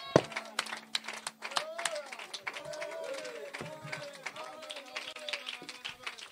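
Church congregation clapping and cheering in a lively crowd, scattered claps and voices mixing at moderate distance, with exclamations over the applause.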